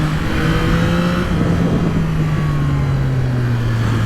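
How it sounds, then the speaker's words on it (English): A 2024 Yamaha MT-09 SP motorcycle engine revs steadily up and down, close and loud, with quick-shifter and auto-blipper changes blending into a continuous droning tone; no one speaks. "the stock quick shift and auto blipper work great, and they work when you're accelerating"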